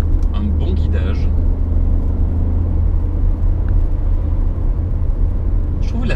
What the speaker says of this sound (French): Je trouve la sonorité de ce 3 cylindres très agréable.